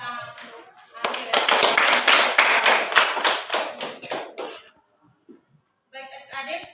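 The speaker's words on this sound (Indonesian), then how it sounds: "Kita tepuk tangan untuk adik." Students in a school classroom break into a burst of hand clapping lasting several seconds, loud and dense, then it fades to quiet before talking resumes.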